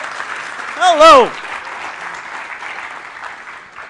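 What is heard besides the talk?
conference audience applauding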